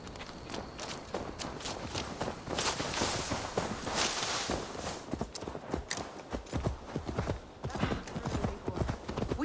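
Rapid clip-clopping horse hooves trot steadily over a loud, busy background in the video game Assassin's Creed Valhalla, with the hoofbeats continuing throughout.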